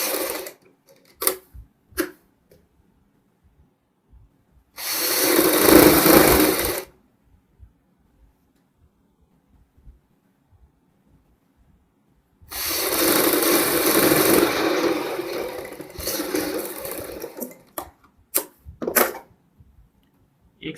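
A sewing machine runs a side seam on a child's fancy dress in two sustained bursts, one short and one longer, separated by quiet handling clicks and taps.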